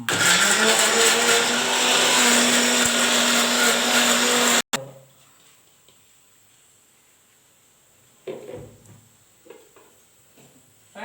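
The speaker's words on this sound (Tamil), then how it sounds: "வெங்காயம் தக்காளி பூண்டு வச்சிருக்கேன் அப்புறம் ஒரு அடி அடிச்சுக்கோ" Kitchen blender grinding onion, tomato and garlic, a loud, close whirring roar for about four and a half seconds that stops abruptly, followed by quiet room sounds and a few faint clatters.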